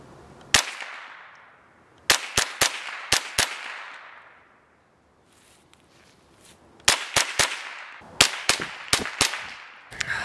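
Sharp .22 rifle shots from a Walther HK G36, fired outdoors in two bursts: a single crack, then quick groups of three, a pause, and a rapid string of seven or eight reports, each with a short decaying tail.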